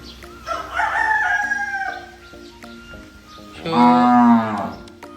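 A loud moo rises near the end after a stretch of bullock lowing and farmyard animal calls; no talking, with some background livestock noise.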